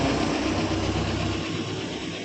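Hero HF Deluxe BS6 motorcycle engine idling steadily nearby, a continuous low mechanical drone with an even rumble and no talk.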